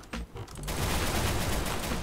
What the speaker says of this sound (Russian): Вот это выстрел!